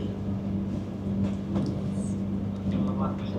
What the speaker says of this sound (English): the train is coming to a stop